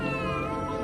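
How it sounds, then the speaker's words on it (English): A cat meows in a sustained, fairly loud, whiny tone with no speech over it. "Who's Sarah Beth? That cat"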